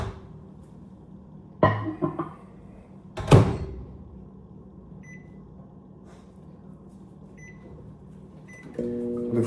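Kitchen microwave oven with its door shutting with a couple of clunks and a sharp slam, then a quiet stretch before the oven starts up with a steady low hum and whir near the end.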